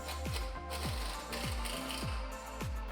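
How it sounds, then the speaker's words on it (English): Shock mount bolts on a 2015-2018 Ford F150 4WD being tightened for a Bilstein 5160 remote reservoir rear shock, heard as a close, rapid ratchet wrench clicking in about six even strokes, with no talking. "you can tighten the shock down to the top and bottom"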